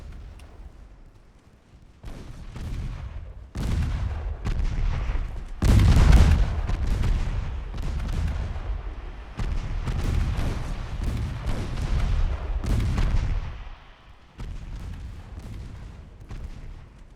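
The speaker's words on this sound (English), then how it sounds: "Get those secondary guns firing as well." Naval secondary guns on warships in Ultimate Admiral: Dreadnoughts fire in heavy, overlapping booms that roll on continuously, loud and close, with a brief lull near the end.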